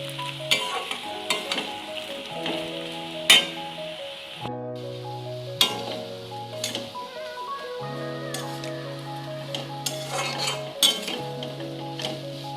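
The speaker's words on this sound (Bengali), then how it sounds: "নারকেল কোড়া দিয়ে আর একটু ভেজে নেব। আলুটাকে আর একটু ভেজে নেব।" Grated coconut and potatoes fry together in a pan with a constant hot sizzle, while a utensil stirs and clinks against the metal at irregular intervals over steady background music.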